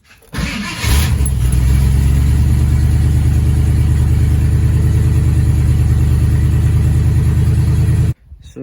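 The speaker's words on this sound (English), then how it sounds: "it froze last night, so I'm gonna try a cold start" An old truck engine cold-starting on a freezing morning: a brief crank, then the engine catches and settles into a loud, steady, rumbling idle for several seconds before cutting off abruptly.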